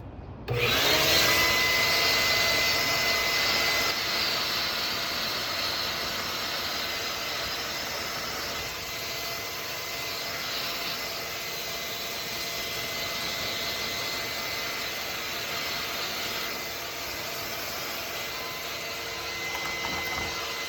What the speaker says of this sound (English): I take my vacuum cleaner and put it on reverse and blow across this, and it blows out the little small debris